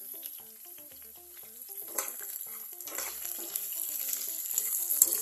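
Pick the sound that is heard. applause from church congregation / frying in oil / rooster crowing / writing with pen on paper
frying in oil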